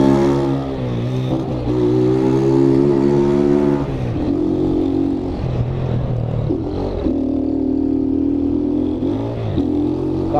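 A carbureted engine revs hard on a street delivery run, rising and falling in several loud, close roaring pulls with a strained, throaty tone and no talking.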